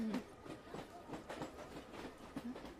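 A local train runs steadily in a Hindi film scene, its wheels giving a rhythmic clickety-clack and low rumble throughout, with faint voices murmuring underneath.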